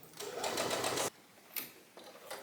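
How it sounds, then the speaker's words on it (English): A sewing machine understitches a dress lining seam: one whirring run of about a second, then a few short stop-start bursts, close and clear. "I'm actually gonna do an understitch down that whole seam to make sure that it rolls nicely to the back"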